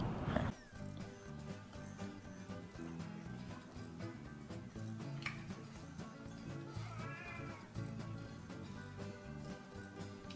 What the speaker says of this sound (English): Dang nabbit cat, you're gonna be on the menu next week if you don't shut up